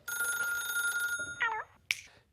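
An old-style telephone bell rings steadily for about a second, then short chirping electronic tones and a single sharp ding follow, close and clear against a quiet background with no talk.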